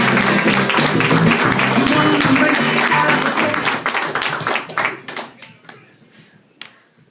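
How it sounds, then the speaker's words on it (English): Comedy club crowd applauding as a stand-up comedian is introduced at Club Voltaire, with dense loud clapping and a cheer that thins out into scattered claps and fades over several seconds. "keep the applause going for your next act"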